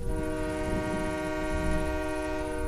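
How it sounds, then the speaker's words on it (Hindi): A train whistle sounds at a railway station, one loud, sustained, steady tone that lasts throughout the short stretch, with no voices. "हाँ, ट्रेन की सीटी यहाँ"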